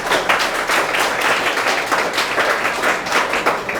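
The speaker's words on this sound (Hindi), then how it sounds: "चलिए एक बार ताली मारिए लोग के लिए।" Students in a classroom clap together, a quick, rhythmic burst of many hands that stays loud and close for several seconds, with no voices over it.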